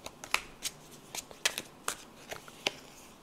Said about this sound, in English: Let me take from this deck also two cards for you here.